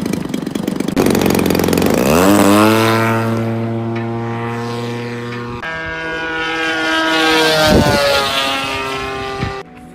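A remote-control model airplane engine whines steadily in flight, its pitch rising sharply then sliding and shifting as it passes, loud and close throughout with no talk.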